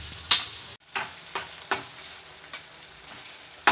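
Tomatoes with salt sautéing in a pan for a ridge gourd and prawn kootu, a continuous close sizzle broken by several sharp scrapes of a spatula stirring at uneven intervals.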